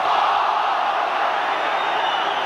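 Football crowd at a 1985 Wales v Scotland World Cup qualifier in a stadium, a dense steady roar of many voices chanting and calling, loud and continuous throughout with no break.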